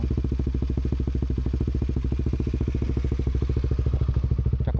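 Honda CBR150R motorcycle engine idling or running steadily, a loud, close, rapid even pulsing throb with a clattering edge, continuous throughout with no talk.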